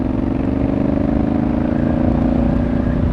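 A Honda Africa Twin DCT motorcycle engine labours in drive mode, a steady loud low drone with a constant throb, close up and with no voices.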